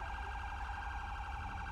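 A GTA V ambulance siren wails steadily and faintly during a police patrol, a sustained electronic tone with no voices over it.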